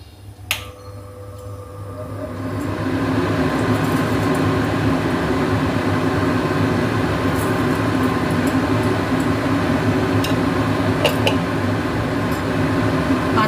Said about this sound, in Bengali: আমি চিমনিটা চালিয়ে নিচ্ছি